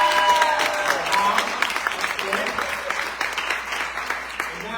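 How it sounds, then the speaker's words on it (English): A poetry book launch audience gives a practice round of applause, a burst of clapping with some cheers that thins out into scattered claps, with voices mixed in. "Can we practice with a round of applause real quick? Let's do a round of applause."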